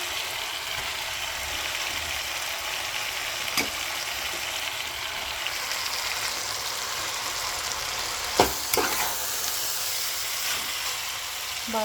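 Hakka noodles being stir-fried in a pan, a steady close sizzle with faint scraping of the spatula and a few sharp clinks of utensil against metal.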